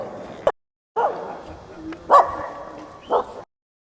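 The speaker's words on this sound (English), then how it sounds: "These dogs are just excited about seeing each other." Dogs bark excitedly at each other on Burano Isle, Italy, in a few separate short bursts and yips of moderate loudness, broken by brief silences.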